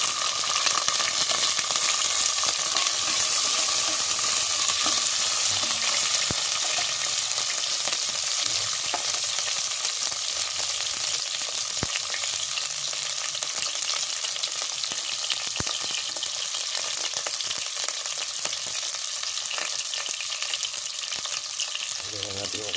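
Onion and tomatoes sizzle steadily in hot oil as the base for shrimp sinigang, a dense, continuous hiss with occasional stirring clicks, close and loud throughout with no talking.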